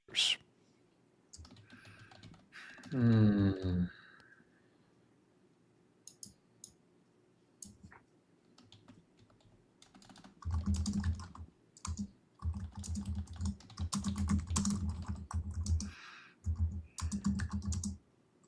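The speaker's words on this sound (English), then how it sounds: "We're all typing." Computer keyboards clatter in scattered bursts during a live pop-culture stream as people type lists of favourite G.I. Joe characters. Brief pauses and a short voiced sound break up the fairly soft, close keystrokes.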